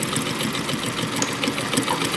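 An Atlas AT2284 zig zag sewing machine runs a single-needle straight stitch, its fast, steady mechanical chatter continuing evenly from start to finish with no talking.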